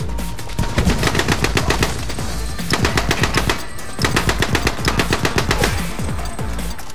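Gunfire in the shooter The Club: steady rapid automatic bursts in evenly spaced clusters, loud and close, running almost continuously with short breaks between volleys.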